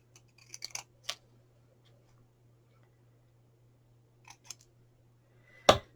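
Scissors snip card for a Christmas card in a few short, close cuts: a quick cluster at the start, a pair midway, then one louder final snip, with quiet gaps between.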